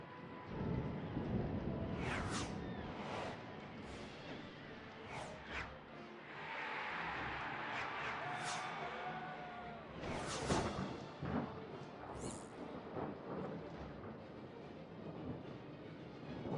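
Rolling thunder and steady rain from a stormy scene in the Harry Potter and the Prisoner of Azkaban PC game, with several sharp crackling bursts over a continuous dense wash of downpour, fairly faint throughout.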